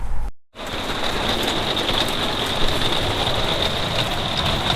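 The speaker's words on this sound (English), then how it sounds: "Yeah, we're having some epic rain." Heavy rain pours down steadily in a dense, even hiss, loud and close, after a brief moment of silence at the start.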